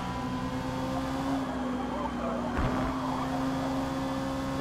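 A Mazda Miata race car from a racing video game holds a steady engine drone with a strong constant tone throughout, with a brief burst of noise midway and voices underneath.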